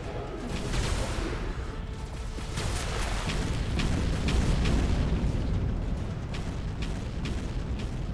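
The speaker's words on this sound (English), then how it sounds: "The bombs from the artillery, man, are huge." Heavy artillery bombs explode in The Riftbreaker, a dense run of deep booming blasts and crackling bursts piling over one another under a constant loud rumble.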